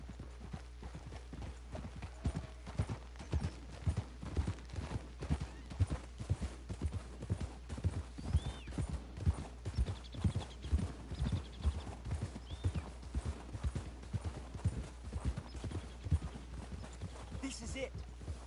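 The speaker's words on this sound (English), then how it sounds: "We should leave the horses." Horses trot over the ground in Red Dead Redemption 2, a steady run of clip-clop hoofbeats that carries through the whole stretch at moderate level, with a faint whinny and speech mixed in.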